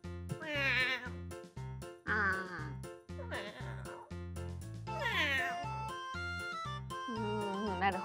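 Voice actors imitate a cat's meow in a game, several stretched, nasal 'nya' cries in turn, close and loud, over steady rhythmic background music.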